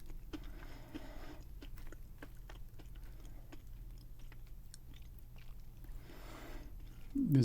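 Crunchy fried cannoli dough dusted with powdered sugar being bitten and chewed up close, a run of small crisp crackles and crunches repeating over a quiet low hum.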